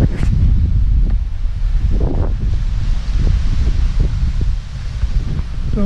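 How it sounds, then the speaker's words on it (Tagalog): Strong wind on a mountain buffets and roars in continuous heavy gusts, with faint rustling underneath and no voices. "Kusok ang hangin."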